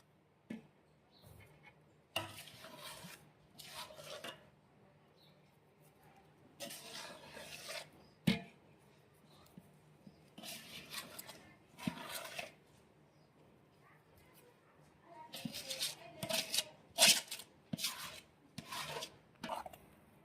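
Potato mash being stirred together with spices in a pan, giving quiet scraping and rubbing strokes in bursts with pauses, moderately close and fairly soft, with no talk.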